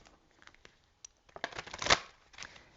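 A Journey of Love card deck is shuffled by hand, with soft scattered riffles building to a dense, close rustling burst and then tapering off, with no talking.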